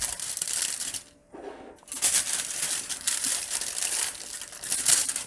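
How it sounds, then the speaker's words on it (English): Aluminium foil crinkles and crumples close up while date biscuit rolls coated in sesame seeds are pushed and rolled in it, a dense rustle broken by a brief pause, with no talking. "And now we're gonna push this to side with the foil,"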